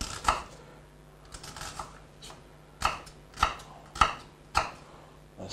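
An onion being chopped into pieces with a knife on a board, with about six to eight sharp, distinct blade knocks at an uneven, unhurried pace, close and fairly quiet.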